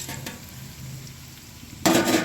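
Chicken pieces dropped into hot oil with fried ginger garlic paste for a chicken pickle, giving a low steady sizzle with a couple of clinks, then a loud burst of frying and stirring near the end, with no talk.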